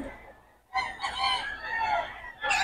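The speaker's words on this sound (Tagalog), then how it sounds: "Solido mga manokis ni Boss Tony yan, mga idol eh" Rooster crowing at a Bocaue gamefowl gathering, one full nearby cock-a-doodle-doo call rising and stretching out, with another crow starting at the end over faint background noise.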